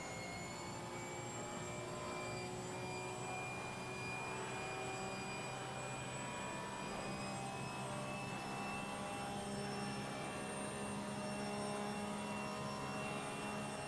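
A Porsche Cup race car in a spec racing game holds high revs down a straight, giving a loud, sustained engine drone that stays steady throughout, with no talk.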